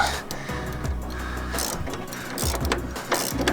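A ratchet tightens a 14 mm motor mount bolt on a 2007–2011 Honda with a continuous close mechanical clicking and whirring, steady and fairly loud throughout, with no talking.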